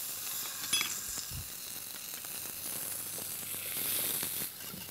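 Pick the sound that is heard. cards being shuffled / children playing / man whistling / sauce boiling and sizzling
sauce boiling and sizzling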